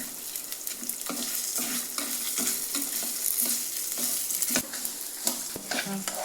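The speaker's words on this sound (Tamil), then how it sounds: "மிளகாய், மல்லி எல்லாமே பொன்னரமாக கறி விட்டுறக்கூடாது, பொன்னரமாக வறுக்கணும்" Chillies and coriander seeds dry-roasting in a pan for a sundakkai kuzhambu, with continuous sizzling and crackling and repeated scraping stirs, fairly close and steady throughout.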